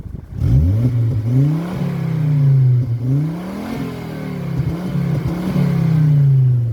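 A Volvo S60 T5 Polestar engine idles and revs in several rising and falling sweeps, loud and close, with a steady hum between the revs and no talk.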